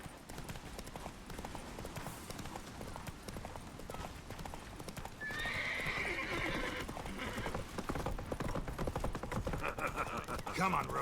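Roach, a horse in the Witcher 3 video game, gallops with rapid, loud clip-clop hoofbeats and lets out a neigh midway, while other game sounds play underneath.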